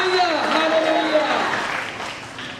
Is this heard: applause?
yes